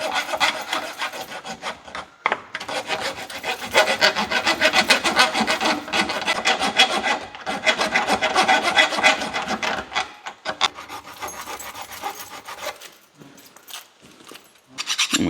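An aggressive-tooth file rounds over aluminum corners in loud, rasping back-and-forth strokes with brief pauses between runs, close up and with no talking.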